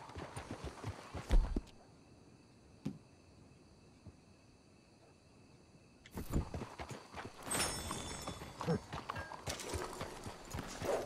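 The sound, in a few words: horses' hooves clip-clopping in video game Red Dead Redemption II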